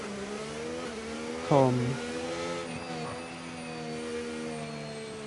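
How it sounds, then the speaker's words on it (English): A McLaren race car comes out of the pits: a distant engine whine climbs in pitch, swells briefly, then settles into a steady tone beneath a single spoken word. "Someone's came out of the pits. It's a McLaren."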